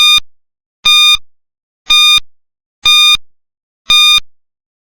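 A quiz countdown timer gives five loud electronic beeps, evenly spaced about one second apart, with silence between them.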